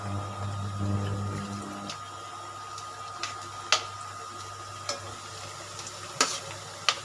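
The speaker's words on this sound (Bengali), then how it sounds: "এবার এটাকে আমি ভাজবো তেলটা গরম হয়ে গেছে আমার আমি তিনটে করে দিচ্ছি" Khaja pastries, three at a time, deep-frying in hot oil, giving a steady close bubbling hiss with a low hum beneath and a few sharp pops and crackles scattered through.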